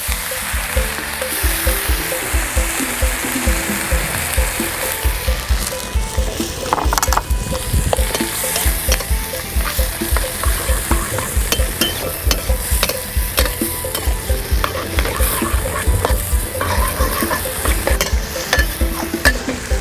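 Stir-fried moo yor, a Thai pork sausage, with chili paste sizzles loudly in a pan while stock is poured in and a spatula scrapes and clatters in a fast, steady rhythm, the frying noise continuous and close, without talk.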